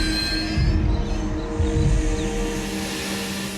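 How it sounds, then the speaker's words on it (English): A train rumbles heavily along a straight track under emergency braking, while thin, high metallic squeals from braking wheels ring faintly above the low roar. "The driver pulls the emergency brake."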